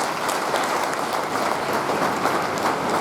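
Audience applauding to honour the chief guest at a 75th Independence Day celebration, dense continuous clapping from a crowd, steady and fairly loud throughout with no talking.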